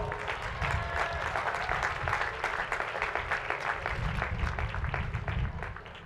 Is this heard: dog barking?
no